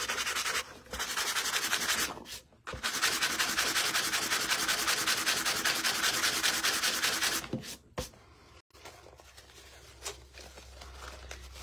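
Sandpaper rubbed by hand over a surface before painting, steady close scratchy strokes with a few short pauses and handling noises, no talk.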